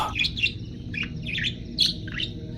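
Repeated bright chirps and chattering calls from a myna bird, coming in short bursts over a low rumbling background.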